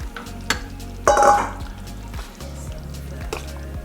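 Cooked, peeled jumbo shrimp drop into a pot of gumbo with a wet splash, then a spoon stirs through the thick mixture in soft scrapes and squishes over a low background hum.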